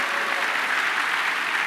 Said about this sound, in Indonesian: Yang mengerti tepuk tangan bagi Allah kita.